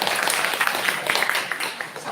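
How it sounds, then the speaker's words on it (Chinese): A church congregation at a Taiwanese-language worship service applauds, a moderate wash of clapping that softens toward the end, with a voice speaking alongside it. "值得鼓掌，可以鼓掌吗？"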